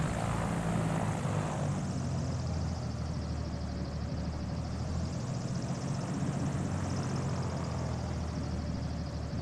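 A propeller aircraft engine drones steadily and loudly in Flight Simulator during a takeoff, a continuous buzzing roar with a slowly wavering pitch and no pauses.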